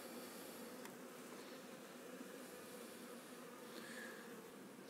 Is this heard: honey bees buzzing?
yes